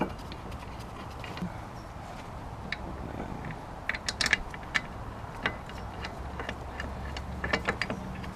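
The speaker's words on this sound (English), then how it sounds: "this is 70 foot-pounds of torque with a torque wrench" Torque wrench tightening a front brake component to 70 foot-pounds on a Volvo V60 Polestar, with quiet scattered mechanical clicks and ratchet-like ticks over a low background hum.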